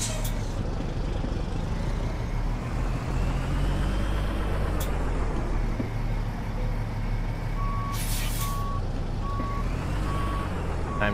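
A semi truck in the American Truck Simulator video game backs in with evenly spaced reversing beeps sounding over a steady, loud diesel engine rumble, with a faint air hiss early on.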